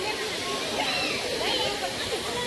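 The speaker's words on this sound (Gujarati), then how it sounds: "ઝરણું પડે છે, ઓછું થઈ ગયું ઝરણું." A small waterfall, its flow reduced, pours steadily at the Kedariya Mahadev temple in Jesar, a constant close rushing hiss with people talking over it.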